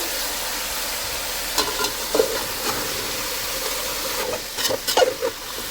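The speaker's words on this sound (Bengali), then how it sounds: "আলুর সঙ্গে অন্যান্য সবজিগুলো দিয়ে একটু ভেজে নেব" Potatoes and mixed vegetables fry over a high gas flame for sabudana khichdi, giving a steady close hiss with a few brief scraping stirs near the middle and end.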